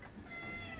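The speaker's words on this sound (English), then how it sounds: "Meow, says Junko." A cat meows once in a game, the Honkai Star Rail simulated universe, a soft, faint, brief mew over a low background hum.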